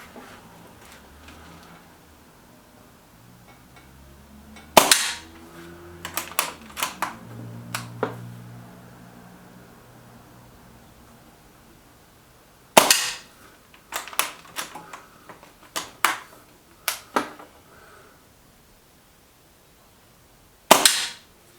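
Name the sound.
Walther Rotex RM8 air rifle firing Gamma Pro Hunter pellets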